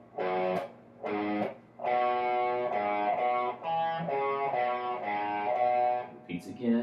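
An electric guitar plays the riff slowly, in a series of separate distorted phrases with short gaps between them, close and moderately loud, with a brief scrape at the end.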